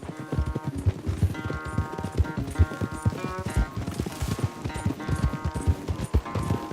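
Horses galloping hard in a race in Red Dead Redemption 2, a steady drumming of rapid hoofbeats close up, with faint tack and movement noise and no talk over it.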